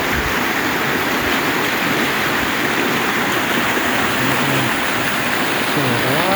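The Eersterivier flowing with a fair amount of water, a steady broadband rush and gurgle of moving water close by, continuous and even throughout with no talk.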